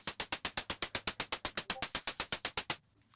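A noise oscillator on a Deluge synthesizer with a very short decay fires about twenty quick, evenly spaced bursts of bright hissing noise, crisp and close, ending in near silence.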